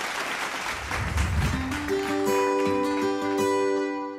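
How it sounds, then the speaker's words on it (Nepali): An audience at a Poet Idol stage show applauds to welcome a poet from Sikkim, with a broad patter of clapping that gives way to sustained musical tones; no speech. "उहाँलाई जोरदार तालीको साथ मञ्चमा स्वागत गरौँ."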